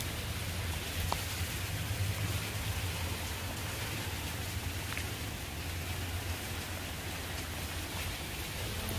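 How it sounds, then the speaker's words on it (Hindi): Heavy rain falls outside a balcony surrounded by greenery on a cool, windy day, a steady dense hiss that carries on evenly from start to finish with no voices. "अभी बाहर बहुत ज़्यादा बारिश हो रही है और बहुत ज़्यादा ग्रीनरी है बाहर"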